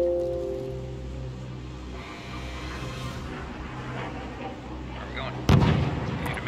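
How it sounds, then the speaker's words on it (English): Gunfire in the video game Call of Duty: a steady low rumble of battle ambience with scattered distant shots, then one loud close gunshot near the end, its echo trailing off. "sound of Padme's gun is just so funny"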